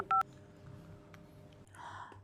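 A telephone is dialed, with one loud short keypad tone near the start followed by quieter clicks and faint room noise, and no one speaks during it.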